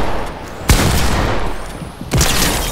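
Two heavy, booming Desert Eagle pistol shots fired in a video game, loud and close, spaced well apart against a dense rumbling background.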